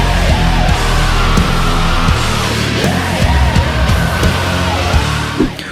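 Dense, loud modern rock track with a driving beat, heavy distorted guitars and a screaming vocal, playing at full energy throughout with no one talking over it.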